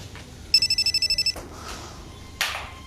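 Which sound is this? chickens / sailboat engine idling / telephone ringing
telephone ringing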